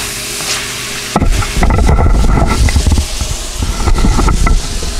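Keto food crackles and sizzles in a frying pan on the stovetop as a second batch is added, with dense frying noise that starts suddenly about a second in and stays loud throughout.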